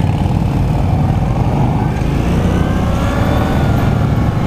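A Victory Octane motorcycle, about 104 horsepower, pulls away from a stop with a loud, continuous engine roar and wind rush, recorded up close from the rider's position without a break.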